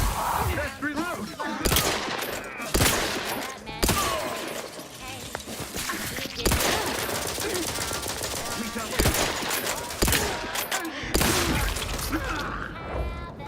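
Automatic gunfire and sharp shots burst repeatedly in The Outer Worlds 2 combat, loud and close, in uneven volleys under a game soundtrack with voices talking over it.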